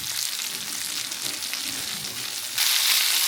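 Leftover flour mixture from stuffed chillies cooks in a hot pan, giving a steady close sizzle and frying hiss that grows a little louder toward the end.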